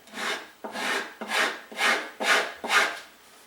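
A file rasps across the edge of a wood veneer at an angle, six even, steady strokes in a row, close and clear with no talk.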